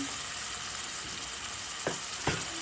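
Curry leaves fry in hot oil for a mutton masala, giving a steady close sizzle with two short sharper crackles near the end.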